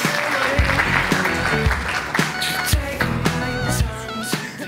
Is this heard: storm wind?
no